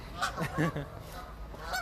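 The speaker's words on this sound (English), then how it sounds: "So try not to get attacked by the geese here, Sophie." Geese honk in a city park, several loud nasal calls close by in quick bursts, with a short pause before one more honk near the end.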